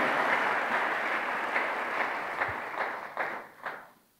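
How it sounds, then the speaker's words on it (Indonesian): A church congregation applauds with dense, sustained clapping that grows into a few rhythmic claps in unison before fading out. "Tepuk tangannya boleh yang paling meriah buat Tuhan kita."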